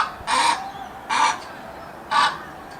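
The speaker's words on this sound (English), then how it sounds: "If you guessed an ibis, then you're right." An Australian white ibis gives three loud, harsh honking croaks at steady intervals, close by against a low background hiss.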